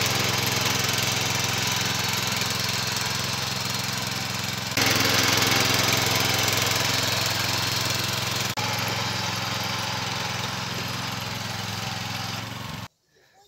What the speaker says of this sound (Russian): Как видим, мотоблок идет ровно,